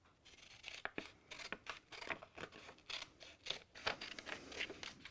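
Scissors cut lead came for a stained glass window, giving a run of close, crisp snips and crunching cuts at an irregular pace, heard alone without talk.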